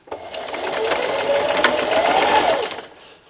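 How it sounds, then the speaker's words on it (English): Sewing machine stitching a Halloween treat bag, running steadily for about three seconds as a loud, close, continuous whirring hum with a rising and falling pitch before easing off. "I'm going to raise my presser foot and just move my project down to the next line"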